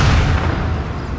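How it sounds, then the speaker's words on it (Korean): Cannon artillery firing in the strategy video game Total War: Shogun 2, a dense rumbling barrage of overlapping booms with no clear gaps between shots. "그래도 대포 계속 쏘고 있다."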